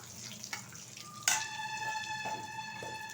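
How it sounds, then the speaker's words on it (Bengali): A bay leaf and whole cumin seeds hit hot oil, giving a quiet crackle that bursts into a brighter, steady sizzle partway through and then settles into an even frying hiss with faint pops, no talking. "এখন এই তেলেই দিয়ে দিচ্ছি একটা তেজপাতা আর কিছুটা গোটা জিরে। একটু ভালোভাবে ভেজে নিচ্ছি।"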